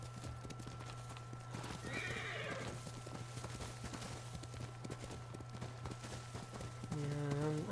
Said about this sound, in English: I'm gonna be with the White Horse now.